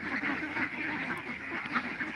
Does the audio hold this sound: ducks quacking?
yes